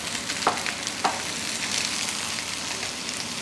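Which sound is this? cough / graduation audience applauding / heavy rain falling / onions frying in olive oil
onions frying in olive oil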